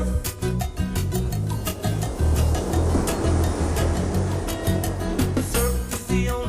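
Ocean surf at Waikiki, waves washing in a continuous loud roar of water under strong rhythmic music.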